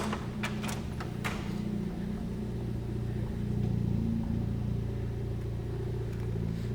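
A car engine idles through a homemade exhaust after a cold start, a steady deep rumble with a slight rise in loudness midway and a few sharp clicks early on.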